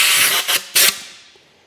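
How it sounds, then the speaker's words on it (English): Compressed air blasts around the handlebar grips of a Suzuki DR650 motorcycle to loosen them. Three short, sharp hissing bursts come up close, then the sound fades away. "if you have compressed air, I believe that is about the easiest way to get these ones off"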